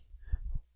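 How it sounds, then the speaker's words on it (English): A couple of soft computer mouse clicks, close and quiet, with no speech. "I click done"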